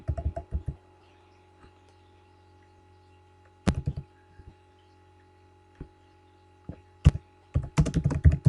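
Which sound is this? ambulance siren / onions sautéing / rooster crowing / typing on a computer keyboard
typing on a computer keyboard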